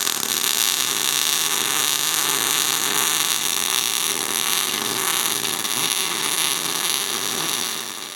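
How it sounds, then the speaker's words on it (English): Gas-shielded MIG welding with an ARCCAPTAIN MIG200 welder gives a steady, loud, dense crackling hiss that runs unbroken for several seconds and fades slightly at the end. "Let's weld on this side."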